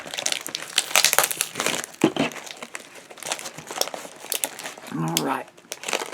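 Crinkling and crushing of mailed packaging as a package is unwrapped, with irregular rustling bursts throughout and a brief voiced sound near the end.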